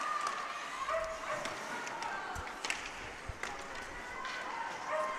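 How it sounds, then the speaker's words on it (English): A dog barks inside an ice rink during a girls' high school ice hockey game. A few faint, distant barks come through the low hum of the arena and occasional crowd noise, with voices in the background. "There's a dog here in the ice house. We could hear him barking."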